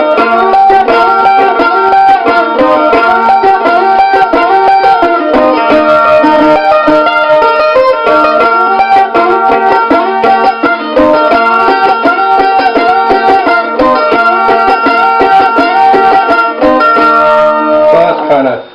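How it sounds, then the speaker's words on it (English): Two mandolins play a duet, one carrying the upper melody and the other the lower part, in a bright, steady stream of picked notes. Both are close and loud throughout, with no talking. "Duet between two mandolins"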